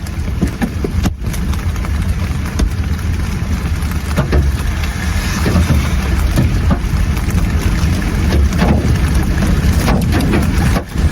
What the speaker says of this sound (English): a hailstorm like most people won't ever see